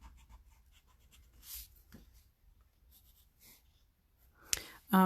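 A pencil scratches softly across paper in short, quiet strokes while doodling zentangle patterns, close and faint amid light breathing and low room noise.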